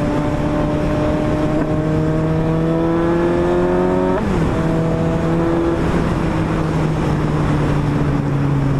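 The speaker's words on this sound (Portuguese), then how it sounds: "controle de tração no 3, acelerando assim, parece que eu tô na Bandit." Suzuki GSX-S750 motorcycle with traction control set to 3 accelerates hard through gears, engine tone rising steadily, a quick shift, then pulling again, loud and close with wind noise.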